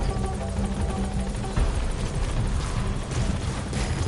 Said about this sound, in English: The chopper can't get close.